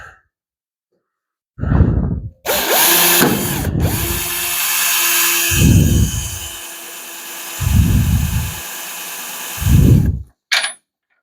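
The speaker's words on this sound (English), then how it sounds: "I love automatic chucks. They take the drill bit out for you." A power drill with an automatic chuck runs in a long steady whining burst while boring, with several loud breathy exhalations close by before and during the drilling, then a brief final chirp of the motor.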